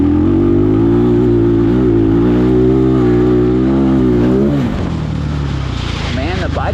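A Trailmaster TM33 dirt bike engine drones loudly and close while mudding, holding a steady mid-pitched tone with small rev swings before dropping off near the end into rougher, lower running.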